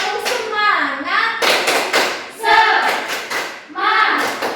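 A classroom of children does tepuk semangat, clapping in a rhythmic pattern of quick slaps and taps, with children's voices chanting along over the claps.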